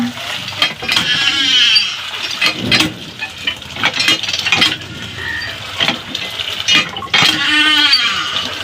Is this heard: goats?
yes